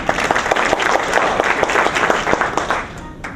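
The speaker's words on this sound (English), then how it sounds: "Please give them a round of applause, please." An audience at an evening event hosted by campus clubs breaks into dense, steady clapping that fills the room, with scattered voices mixed under the applause.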